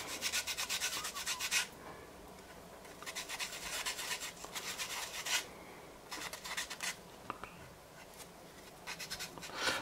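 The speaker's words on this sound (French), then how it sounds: "après je vais prendre un grain un petit peu plus fin pour aller frotter un petit peu tout ça" Hand sanding the grey-primed body panels of a Paris fire brigade PST rescue truck with finer-grit sandpaper: several bursts of close, rasping back-and-forth rubbing separated by short pauses.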